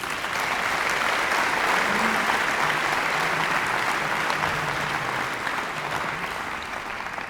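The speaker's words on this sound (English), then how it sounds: "Can we give a round of applause to Alden, please?" Steady, full applause from a concert audience at a community choir performance, sustained and dense for the whole stretch with no speech over it.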